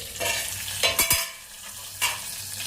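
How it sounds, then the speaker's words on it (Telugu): Green chillies fry in a pan for a village-style tomato chutney, a soft steady sizzle broken by a few scraping stirs of a spoon, fairly quiet and close, no talking. "ఫ్రై అయిందో లేదో పచ్చిమిరపకాయలు చూద్దామండి."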